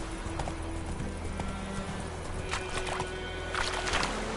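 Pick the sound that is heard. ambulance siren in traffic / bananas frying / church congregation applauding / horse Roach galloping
horse Roach galloping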